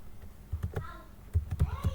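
Someone types on a Windows computer keyboard in a scattered run of light, crisp key clicks, with a quicker burst of taps toward the end.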